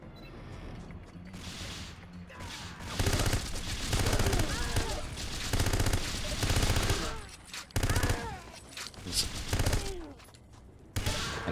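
AK assault rifle fire in Everything or Nothing rattles in rapid bursts of close automatic shots with mechanical clanks between, loud and dense, with someone talking over parts of it.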